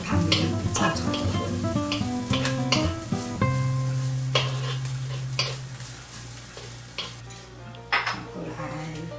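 Dried radish is stir-fried in a pan with a metal spatula, producing busy clanks and scrapes over a sizzling hiss that carries on after the strikes ease off.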